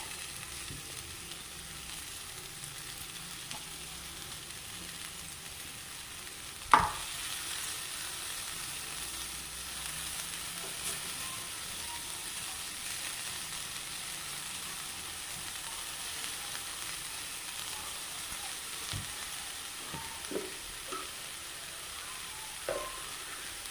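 Carrots sizzling in a pan, prepared alongside puttu: a quiet, even frying hiss runs throughout, broken by a sharp spoon knock early on and a few light stirring taps later.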